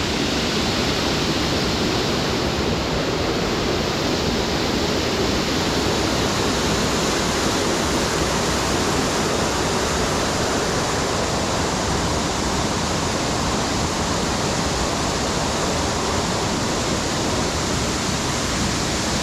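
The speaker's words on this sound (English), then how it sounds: "So this is HARMBY waterfall." Harmby waterfall near Leyburn pours in a dense, unbroken roar of falling water, loud and steady from start to finish with no other sounds.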